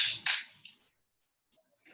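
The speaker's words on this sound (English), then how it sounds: "Noisy tape, notes falling off the wall." Taped paper notes fall off a wall in a Pilates studio: a few sharp crackling rustles in quick succession, then near silence, with a faint papery rustle returning at the end.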